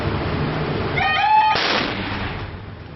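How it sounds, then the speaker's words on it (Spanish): A short circuit triggered inside an electrical panel gives a loud, abrupt bang, preceded by a brief buzzing tone and followed by a decaying rumble over steady background noise. "estamos viendo un tablero eléctrico en donde se provoca un cortocircuito"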